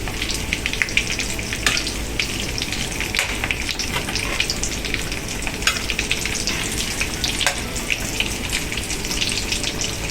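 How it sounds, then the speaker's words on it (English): Turkey and mashed potato leftovers fry in really hot oil, giving a loud, continuous crackling sizzle with scattered sharp pops throughout. "Make sure the oil is hot, really hot, so they don't fall apart or stick."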